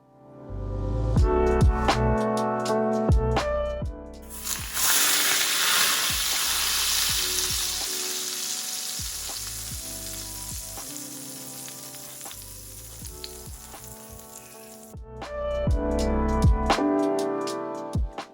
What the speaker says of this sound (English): heat up 1/3 cup oil and pour over the garnishing to activate all the flavors